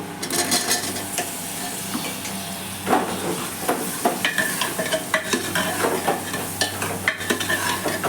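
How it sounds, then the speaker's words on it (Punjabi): Potatoes with turmeric and spices are stirred in a hot pan for a potato, tomato and capsicum sabzi, with a steady sizzle under repeated scraping spoon strokes and light clinks, no talking. "ਆਲੂਆਂ ਨੂੰ ਚੰਗੀ ਤਰ੍ਹਾਂ ਮਿਕਸ ਕਰ ਲਵਾਂਗੇ"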